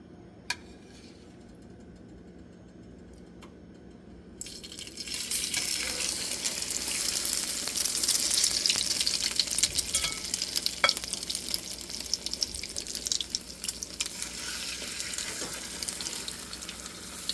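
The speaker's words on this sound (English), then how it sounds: "We're just going to fry it a little bit on each side." Egg-soaked toast frying in oil in a pan: after a few seconds of quiet with small clicks, a steady loud sizzle starts and continues, crackling and hissing throughout.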